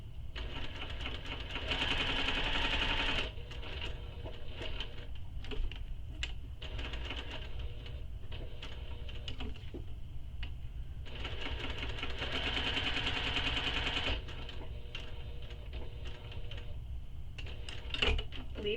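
A sewing machine stitches a handbag handle in two longer bursts of fast, buzzing needle action, separated by quieter stretches of clicks and handling noises, with no speech.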